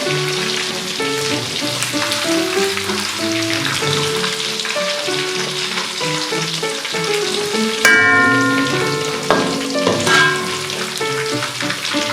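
Chicken pieces deep-frying in oil with salt and chili sizzle loudly and steadily nearby, with popping crackles and some ringing tonal sounds over the dense frying hiss.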